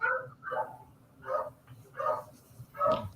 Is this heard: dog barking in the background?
yes